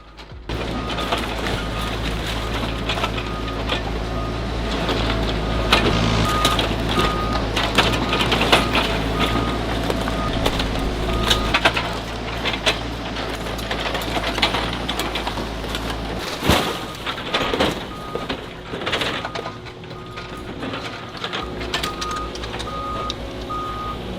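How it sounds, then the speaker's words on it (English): A metal crushing machine compresses dismantled car bodies into small scrap pieces, giving a loud, sustained grinding and clanking roar with sharp cracks and metallic bangs throughout and a steady low mechanical hum beneath. "it is then fed into the crushing machine where it is compressed into small scrap metal pieces"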